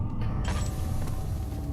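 A door creaks open slowly in the Amnesia video game, a drawn-out strained groan over a low ambient hum.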